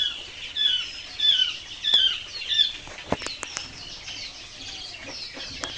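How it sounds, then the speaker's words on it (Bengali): Japanese quail chirp in short repeated calls at a quail farm while wings flutter and scuffle nearby, with a few sharp clicks in the middle. "এগুলো হচ্ছে একদম অরিজিনাল জাপানি জাতের কোয়েল পাখি"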